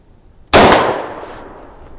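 A single rifle shot from a Henry 015-223 single-shot rifle strikes a steel target: one sharp, loud crack and clang that rings out and slowly decays for over a second, with no talking.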